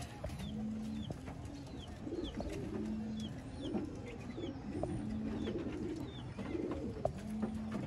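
Ferozpuri pigeons coo in steady repeating rounds, several low throaty calls overlapping at close range, with faint higher chirps drifting in the background and no talking.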